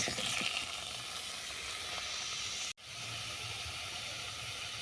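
Bread pieces fry lightly in oil for a salad, giving a steady, quiet sizzling hiss that runs throughout with one momentary dropout and no speech.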